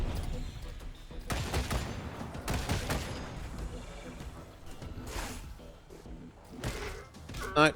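Turret gunfire in Wasteland 3, with repeated bursts of loud shots and heavy rattling volleys rising and falling across the stretch, mixed with combat noise and voices talking in between.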